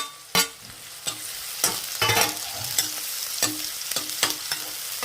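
Onions and green chillies fry in a pan, stirred with repeated sharp scrapes and clatters over a constant sizzling crackle, close and fairly loud, with no talking.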